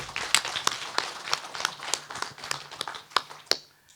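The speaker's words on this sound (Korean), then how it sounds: "우리 장 회장님께 다시 한번 박수 좀 부탁드리겠습니다" An audience at a policy seminar on separated families claps for a chairman, a scattered, modest round of sharp individual claps at an irregular rhythm that thins out and stops near the end.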